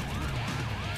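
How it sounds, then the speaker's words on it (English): Emergency-vehicle siren in the video game Painkiller: Hell and Damnation, a loud, continuous wailing tone with rising and falling sweeps over a low rumble. "I'm hearing sirens, yeah."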